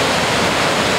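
The Boulder River near Big Timber, Montana rushes close by in a steady, loud, broadband roar of churning water at an underground river entrance under a rock outcrop, with no voices.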